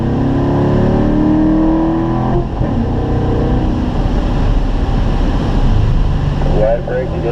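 A Corvette engine on the Spring Mountain race track drones loud and steady with the pitch climbing under throttle, while an instructor talks over it throughout.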